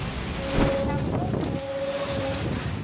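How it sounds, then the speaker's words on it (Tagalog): Strong typhoon wind in El Nido, Palawan, roaring and buffeting against the microphone in a constant rushing wash, with gusts swelling and a thin tonal whine running through it. "rinig ang malabuhawing lakas ng hangin dala ng Bagyong Tino"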